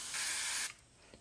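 An airbrush sprays transparent orange paint straight from the bottle onto a sunset painting, one short loud burst of hiss lasting about half a second, then quiet.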